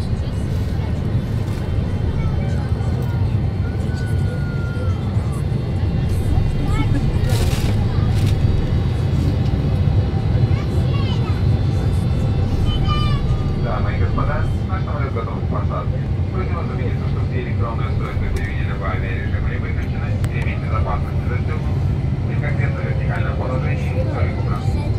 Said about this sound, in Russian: А вон взлет.